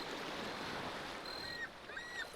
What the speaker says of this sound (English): the relaxing sound of the gulls and the waves